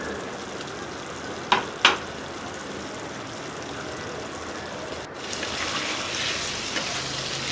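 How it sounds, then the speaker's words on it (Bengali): A beetroot and carrot curry is stirred in a pan after simmering under a lid, with a steady low sizzle and two sharp spatula scrapes early on, then a brighter, louder bubbling hiss. No voices. "আবারও আমি খুব ভালোভাবে নেড়ে নেব।"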